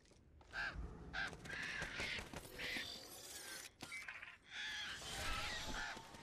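Crow-like cawing from a bird in the battle royale game Apex Legends, several harsh calls over a busy, clattering game soundscape with shattering and mechanical noises.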